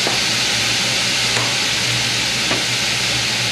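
Oil sizzling steadily in a very hot pan while cooking a Philly cheesesteak, a continuous close frying hiss with a few faint clinks of stirring.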